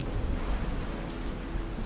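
Steady rain falling, a dense even hiss of drops with a low rumbling underlayer, continuous and fairly loud throughout with no voices.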